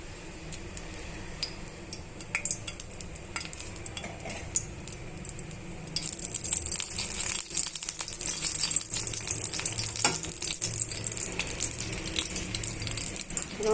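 Oil heats in a pan on a lit stove for Nellore-style fish fry; a faint background clatter gives way midway to a steady, louder broadband sizzle that continues to the end.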